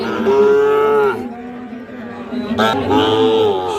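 Sahiwal bull calves at a busy rural cattle market in Satkhira, two loud, close, drawn-out moos separated by a brief pause, with faint crowd murmur in the background.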